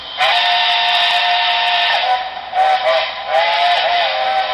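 A model train sound decoder's steam whistle blows in long sustained blasts with a breathy hiss, briefly dipping and swelling before sounding again.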